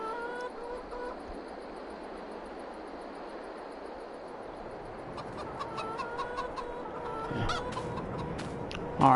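Backyard chickens clucking on a small farm, a steady mid-level drone of fowl with sporadic clucks growing busier in the second half and a sharp call at the close.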